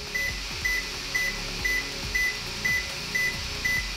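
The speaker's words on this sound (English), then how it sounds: "At first, you will hear a series of 8 slow beeps." A DJI M300 drone sounds a run of eight slow, evenly spaced electronic beeps during a firmware update, each a steady mid-pitched tone, close and clear over a faint constant hum.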